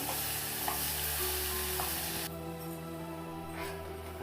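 Ginger garlic paste frying in a pan, a steady broadband sizzle with light stirring taps that drops to a quieter simmer partway through, close and continuous with no talk.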